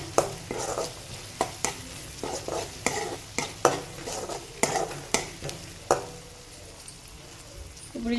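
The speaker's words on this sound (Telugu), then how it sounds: "ఇందులోకి కొంచెం కరివేపాకు వేస్తున్నానండి." Curry leaves, turmeric and onions fry in a pan for a paneer curry, with a spoon scraping through them in repeated, regular strokes over a constant sizzle.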